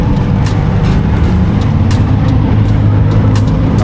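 A car drifting on a touge mountain road gives a loud, steady engine drone that stays close and continuous throughout.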